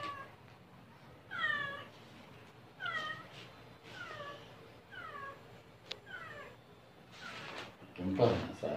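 Several cats in a pet shop meow repeatedly, a string of distinct, fairly close calls spaced a second or so apart, with some quiet background noise and a brief louder clatter near the end.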